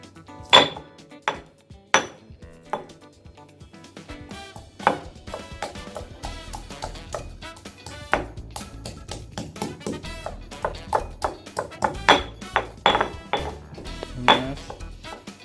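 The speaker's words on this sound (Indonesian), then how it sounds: "ini cabai kita ulek sampai halus, dan selanjutnya kita tambahkan bawang merah." Chilies pounded with a mortar and pestle, a series of sharp knocks and grinding scrapes with an irregular rhythm, some loud hits and quieter strokes close by.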